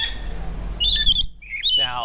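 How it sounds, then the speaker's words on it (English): A pet bird gives loud, harsh squawks in close bursts while pecking at the back of a person's neck, with short gaps between the calls. "I don't know why the bird is pecking the back of my neck right now"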